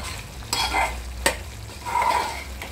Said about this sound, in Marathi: पाणी आटलं की आपली कढईची झाले गरमागरम कलेजी फ्राय